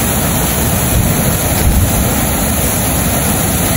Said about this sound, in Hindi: ये इसकी लहरें चेक करें आप, बहुत तेज़ इसकी लहरें हैं, वेव्स बहुत ज़्यादा हैं